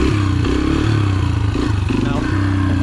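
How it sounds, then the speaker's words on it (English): A dirt bike engine running in first gear, a loud close-up throbbing drone with steady pulsing firing and slight rises in revs, filling the whole moment without any talk over it. "Let's try first gear."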